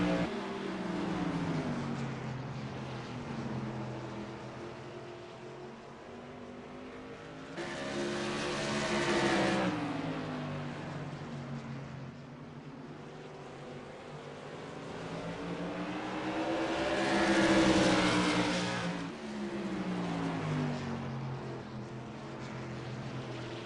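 Modified race cars lap Thompson track in a late-race oval event, engines rising and falling as packs roar past in two loud sweeps, with a steady drone between them and no talking.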